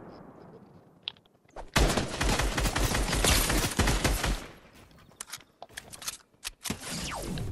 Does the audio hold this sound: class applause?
no